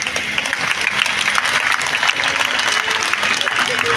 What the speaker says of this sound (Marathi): आपण सर्वांनी टाळ्या